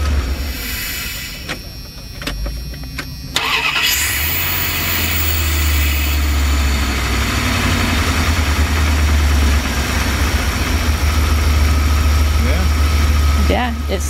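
A van engine idles steadily after its idle control valve was cleaned, a loud, close, low rumble running throughout, with a shorter rougher stretch at the start before the idle settles and evens out.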